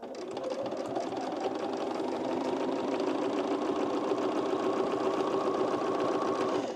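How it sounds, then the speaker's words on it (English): A home sewing machine stitches fabric for an oversized plus-size blazer, a close, continuous mechanical whir and rapid needle chatter running without pause. "Now, my sewing machine"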